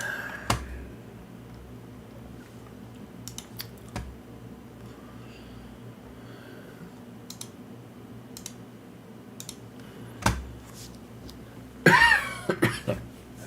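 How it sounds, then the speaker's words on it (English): A few sharp coughs break a quiet room, with a louder rough burst near the end and scattered faint clicks between. "Coughing and spluttering all over the place"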